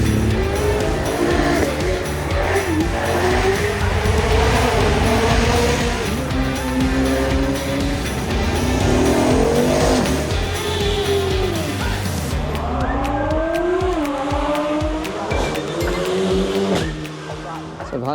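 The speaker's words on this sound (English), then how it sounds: "And there's a Pagani coming now." A Pagani supercar drives past at the Goodwood Festival of Speed, its loud engine rising and falling through gear changes, heard close amid a busy crowd with someone talking over it.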